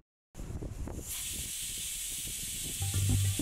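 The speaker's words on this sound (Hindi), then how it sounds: "इसको हाई फ्लेम पर बस एक सीटी आने तक पकाना है।" A pressure cooker on high flame, cooking jackfruit in flavored water, lets out a loud continuous steam hiss that starts abruptly after a short silence and holds steady, with a low tonal whistle rising near the end.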